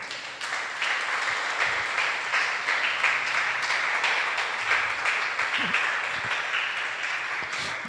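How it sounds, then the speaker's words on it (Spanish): A church congregation breaks into applause during a sermon, a dense, sustained wash of many hands clapping that stays loud and even for several seconds. "Denle un aplauso."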